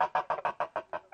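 Farmyard chickens cluck in a steady series of about eight evenly spaced, fairly loud, close calls with no voices.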